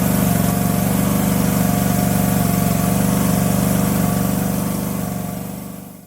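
A gas pressure washer engine runs loud and steady close by while a driveway is cleaned, holding a constant drone that fades slightly toward the end. No one speaks.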